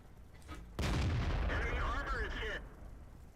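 A tank cannon firing in World of Tanks: one sudden, loud blast followed by a ringing, rumbling tail that lingers for about two seconds before dropping back to a quiet hum.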